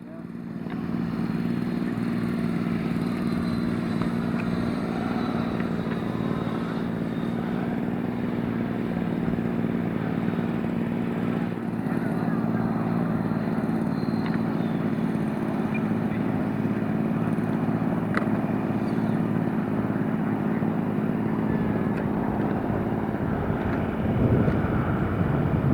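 An HSDJETS Me 262 twin 90mm EDF radio-controlled jet flies at a public model flying club show, giving a steady, loud ducted-fan roar and whine that holds throughout and swells slightly at the end.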